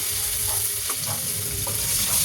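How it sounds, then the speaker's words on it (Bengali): Onion hitting hot oil with a dry chili and bay leaf tempering, a dense, steady hiss of frying close up with faint crackles, no talk. "একটা শুকনো লঙ্কা, একটা তেজপাতা ফোড়ন দিলাম। তারপরে পেঁয়াজ কেটে দিলাম।"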